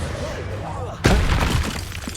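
A Confringo fire spell blast in the Hogwarts Legacy video game, a sudden loud burst partway through with a crackling, shattering tail, after a quieter stretch of battle noise.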